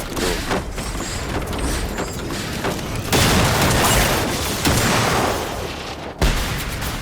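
A launcher firing and exploding in Generation Zero, dense booming blasts and rumbling gunfire filling the clip, loud and close, with sudden surges near the middle and end.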